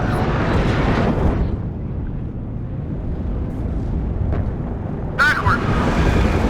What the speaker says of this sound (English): Damn, look at this explosion though.